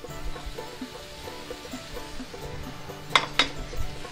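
Noodles stirred into a garlic and tomato sauce in a pan for aglio olio: soft, irregular scraping and clinking of a utensil against the pan, ending in two sharper metallic clinks, close and moderately quiet.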